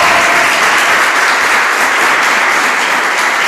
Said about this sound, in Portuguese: Vamos aplaudir Jesus apesar desse frio. Aplaudir bem forte.